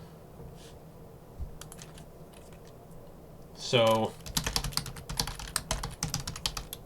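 Close computer keyboard typing during coding work, a quick burst of clustered keystrokes after a short spoken word, with quiet room tone before.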